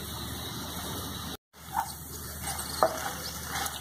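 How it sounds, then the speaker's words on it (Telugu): Okra with salt and turmeric fries gently on a low flame, giving a faint, steady sizzle broken by a brief dropout and a few soft stirring clinks. "సిమ్లో పెట్టుకుని ఒక ఐదు నిమిషాలు ఫ్రై చేసుకోవాలి"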